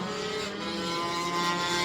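A racing scooter engine buzzes at high revs as it passes on a track during a Super Scooters race at Anglesey, a steady, fairly distant drone with no talk over it.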